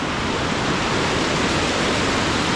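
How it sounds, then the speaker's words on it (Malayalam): A waterfall at its top, where water spreads over slippery rock, gives a loud, steady, close rushing roar, unbroken and without voices. "ഇതാണ് ഇതിൻ്റെ ടോപ്പ്, വെള്ളച്ചാട്ടത്തിൻ്റെ ടോപ്പാണ് കേട്ടോ"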